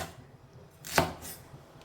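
A knife chops once through okra on a cutting board, a single crisp close knock against a faint quiet background.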